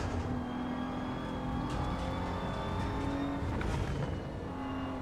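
A GT3 race car at the Nürburgring in Assetto Corsa EVO holds a steady, droning engine note at full throttle, fairly quiet with a slight pitch shift near the end.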